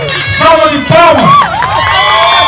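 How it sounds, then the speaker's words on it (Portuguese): At a podium ceremony for the Corrida da Fogueira road race in Calçados, Pernambuco, a crowd close by cheers loudly with overlapping shouts and whoops, including higher-pitched voices, rising and falling in quick bursts. "Salva de palmas."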